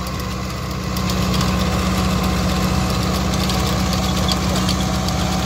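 A Kubota MU5502 tractor running in first gear with a rotavator attached, a loud steady diesel engine drone with a throbbing low rumble and rattling vibration that carries on unbroken and close by.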